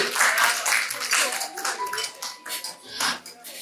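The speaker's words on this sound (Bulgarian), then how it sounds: "изпратили с аплодисменти носителките на бронзовите медали" Applause for the bronze medal winners in the decorated cookies category at a Bulgarian cake art awards ceremony, a steady wash of clapping from a crowd lasting throughout, mixed with a few faint voices.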